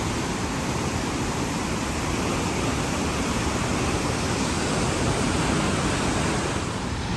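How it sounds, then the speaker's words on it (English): Tajumbina waterfall in Nariño, Colombia, heard as a dense, constant roar of falling water that stays loud and unchanging throughout, with no voices over it. "This is like waterfall"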